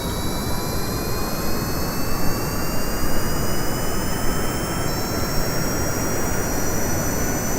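A plane engine roars continuously in the Kerbal Space Program game, a loud steady jet drone with a high whine that slowly rises in pitch and then steps abruptly, playing alone without voices.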